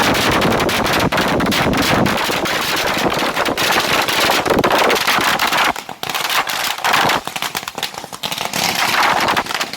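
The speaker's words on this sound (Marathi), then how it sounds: "फटाके फोडून, पेढे वाटून जल्लोष करण्यात आला" Firecrackers burst in dense, rapid crackling volleys throughout a BJP workers' victory celebration, a loud, continuous popping barrage that thins only briefly before surging again.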